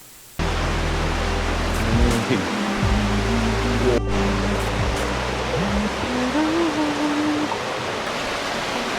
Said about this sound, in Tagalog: Dito, umaagos yung tubig.